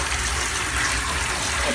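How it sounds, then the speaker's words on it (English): Water gushing and filling up in a newly fitted bathroom, a steady broadband rushing flow, fairly close, with no talking. "the water's filling up on it"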